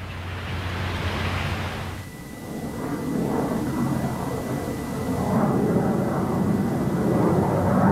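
Tupolev Backfire swing-wing bomber jet engines roar steadily, a loud sustained whine and rumble with a brief dip partway through before building again.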